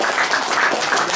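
Dense, steady applause and clapping from a small group cheering the winning team at a friendly grill cooking contest, loud and continuous with no gaps.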